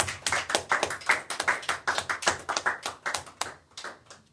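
Church worship service congregation clapping together, with a steady, loud, rhythmic run of applause.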